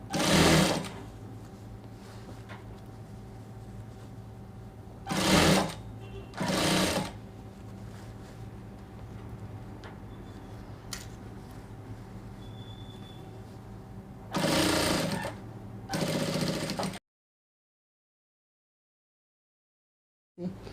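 A sewing machine stitches a sleeve into an armhole at a half-inch seam allowance, running in short bursts of stitching separated by quieter gaps, close and clear, before cutting to silence at the end.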